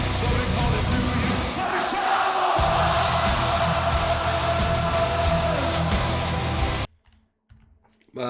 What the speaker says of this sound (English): they just get the crowd going